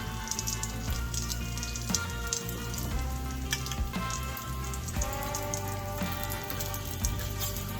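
Egg, cheese and tomatoes frying on a griddle for breakfast tacos, a steady close crackling sizzle with dense popping that holds even throughout, without speech.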